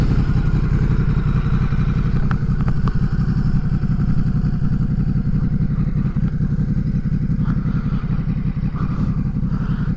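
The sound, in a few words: Ducati Multistrada 950S motorcycle flyby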